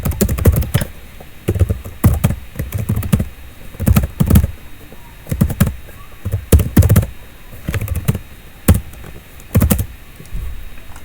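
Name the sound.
typing on a computer keyboard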